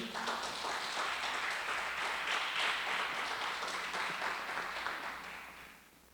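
A church congregation applauds during a worship service, a dense, steady wash of many hands clapping at moderate distance that holds evenly for several seconds before tapering off at the end.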